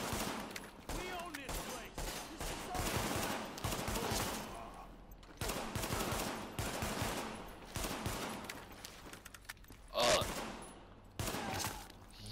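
Dense gunfire from the video game Tom Clancy's The Division, with repeated bursts and volleys running almost continuously, loud and close, and a player's voice talking over the action at times.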